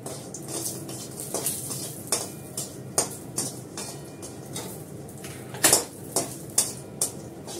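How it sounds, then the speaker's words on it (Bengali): Bori, small lentil dumplings, frying in oil in a pan, heard as a steady soft sizzle with repeated scraping and clinking of a spatula against the pan, close and moderately quiet. "আমি বড়িটাকে ভেজে তুলে নিচ্ছি।"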